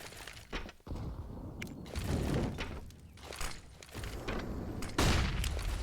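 Automatic rifle fire sprays in bursts during a Counter-Strike match on the Inferno map, sharp cracks and booms, some near and loud, others more distant, over busy in-game background noise.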